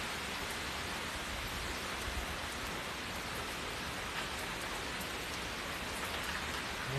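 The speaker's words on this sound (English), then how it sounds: "Rain, but the palm trees are not really blowing, really." Steady, dense rain falls during Hurricane Ian, a continuous even hiss of drops striking surfaces around a garage, uninterrupted and without voices.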